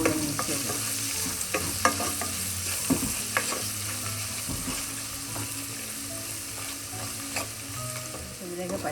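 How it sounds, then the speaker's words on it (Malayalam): Whole spices and garam masala fry in oil for vegetable pulao, a loud close crackling sizzle broken by stirring clinks and scrapes of a spoon in the pan, with no talking. "എല്ലാം ഈ ഓയിലൊന്ന് മൂപ്പിച്ച് ശേഷം നമുക്ക് എല്ലാം കൂടെ മിക്സ് ചെയ്യാം"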